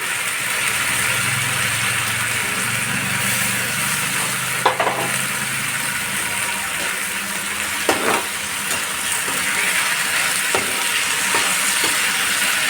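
Rice with cumin frying in a pan over low gas, with a steady sizzling hiss and occasional scrapes of a spoon stirring, close and continuous.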